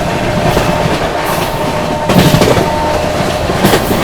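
A New Delhi–Lucknow AC Superfast Express runs through Gajraula Junction, a steady loud rumble of rolling wheels and rail clatter heard from on board, swelling briefly twice without any talk.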